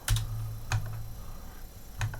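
Keys clatter on a computer keyboard while a config file is edited, in three short bursts of clicks with pauses between them, close and fairly quiet over a low steady hum.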